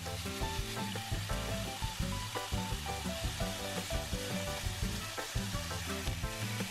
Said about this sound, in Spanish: Le vamos a ir dando la vuelta a los filetitos.